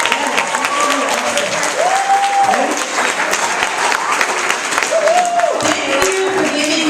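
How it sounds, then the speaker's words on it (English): Audience applause fills a church hall during a high school talent showcase: steady, dense hand clapping from a crowd that runs throughout, with faint voices and a whoop or two mixed in. "can we just clap our hands and thank Saguaro Christian Church for this amazing space?"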